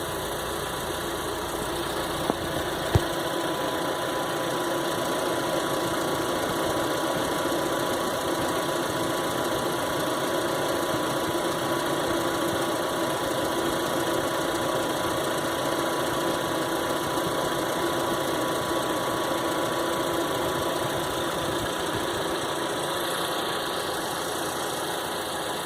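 Chevrolet Onix engine idling steadily with the air conditioning switched on, a constant even hum and whir with no other sounds and no talking.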